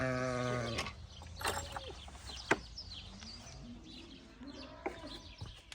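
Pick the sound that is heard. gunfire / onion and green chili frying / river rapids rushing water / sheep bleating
sheep bleating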